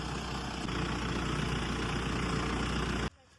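A tractor engine idles with a steady low rumble, close and loud, then cuts off abruptly near the end.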